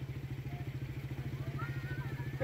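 A motor pushes a raft across the Tinipak River at Daraitan, chugging in rapid, even pulses that stay steady and fairly close throughout.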